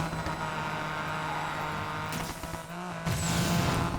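Steady engine drone of a Honda NSX racing in Need for Speed Payback, holding a constant hum with a couple of sharp shifts or bumps midway and toward the end, no voices.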